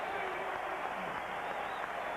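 A basketball arena crowd roars and cheers in a dense, sustained wash of voices and applause, with a commentator talking over it.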